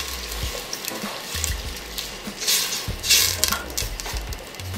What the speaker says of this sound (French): Et on incorpore notre bouillon.